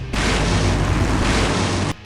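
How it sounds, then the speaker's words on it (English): A massive explosion in the video game Full Throttle Remastered erupts as one loud, sustained boom that rumbles for nearly two seconds before cutting off abruptly. "Now that's an explosion, ladies and gentlemen."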